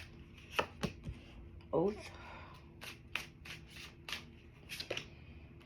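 Tarot cards pulled from a deck, a series of crisp card snaps and slides with a short shuffling rustle, close and fairly quiet, with a brief spoken word.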